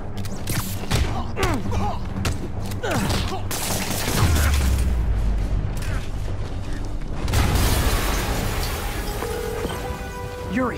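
An explosion in the Spider-Man PS4 video game booms amid rumbling debris and mechanical clatter, with game dialogue and a dense, loud soundscape continuing throughout.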